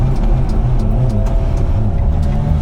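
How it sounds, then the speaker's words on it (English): A car engine strains at full throttle on a track, a loud, close, continuous drone with a rough wavering pitch and no speech over it. "I drove it to the track and it's already sketchy, it doesn't like the full throttle."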